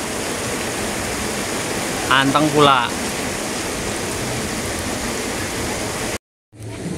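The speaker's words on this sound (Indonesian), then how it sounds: "Hujan deras begini" Heavy rain pours in a steady, loud, dense hiss that fills the scene during a kite-flying meetup. Someone speaks briefly over it, and the sound cuts out for a moment near the end.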